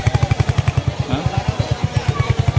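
A motorbike idling as it is parked by a temple road in Ambarnath, its engine throbbing in quick, regular low pulses close by, with a brief spoken word over it.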